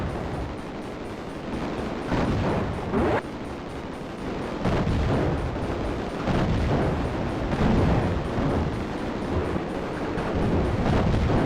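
A mega bomb in the shoot-'em-up Raptor: Call of the Shadows sets off a series of deep, rumbling explosion bursts that roll on loudly and continuously, one blast swelling after another.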